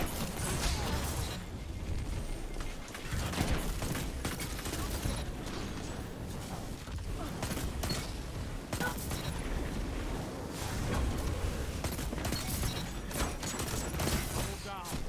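Rapid hand cannon gunfire and mechanical weapon sounds from a first-person shooter video game, dense and continuous with layered shots, clicks and effects throughout, loud and steady with no clear pauses.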